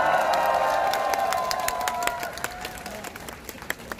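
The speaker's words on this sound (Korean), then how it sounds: "박수 한번 부탁드립니다." A crowd at a Seoul National University student candlelight rally applauding, loud sustained clapping that thins out into scattered claps, with a voice ringing over it early on.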